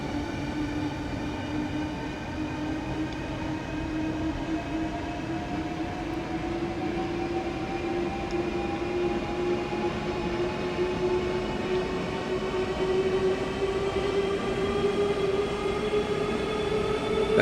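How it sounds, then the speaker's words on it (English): Class 395 high-speed electric train pulling away hard at maximum power, motors rising in a steady upward whine over continuous rumbling rail and wheel noise, close and sustained without a break. "Britain's fastest train. 225 miles per hour. Maximum power."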